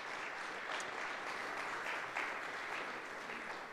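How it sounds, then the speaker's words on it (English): Brief, lively applause from a church congregation welcoming a man named Tom, continuous and even for a few seconds with no talk over it. "why don't we give him a round of applause?"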